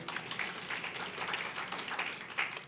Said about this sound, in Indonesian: Tepuk tangan untuk dirimu sendirilah.